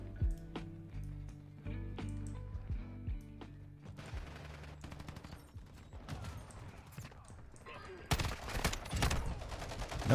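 Gunfire rattles through a Call of Duty Modern Warfare 2 match in sharp bursts and rapid automatic volleys, mixed with other in-game mechanical clanks and effects, ending in a loud dense flurry.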